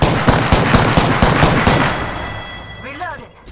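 Video game gunfire, a fast, loud burst of automatic shots in rapid rhythm that fades out after about two seconds, with a short game voice line and electronic chirps near the end.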